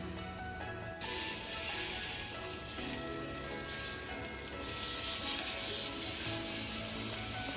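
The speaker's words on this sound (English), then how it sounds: "So we're just browning the sausage until it's completely cooked." Sausage browns in a hot pan for queso, a soft continuous sizzle and crackle at close range with no talking.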